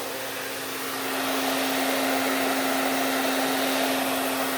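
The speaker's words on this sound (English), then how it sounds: "With the hairdryer on cool." A hair dryer on its cool setting blows over a fluid pour painting, a steady close whirring hiss with a constant motor hum that swells slightly after the first second and then holds.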